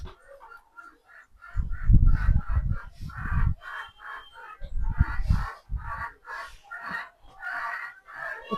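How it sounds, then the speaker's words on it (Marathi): Chickens cluck and a rooster crows at a rural village home in Dapoli during the Holi festival, the calls close and repeated in loud bursts, with a goose-like honk among them and no talk. "कोंबड्या आहेत, ओरडतायत."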